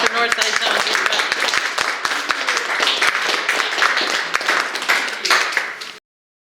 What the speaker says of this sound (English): a huge round of applause for Northside Zone. Judith Repke.